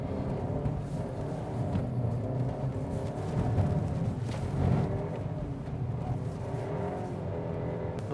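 Cupra Formentor VZ with 310 hp sliding on all four wheels on a circuit, its engine droning steadily and loudly throughout with a slight swell in the middle, no voices.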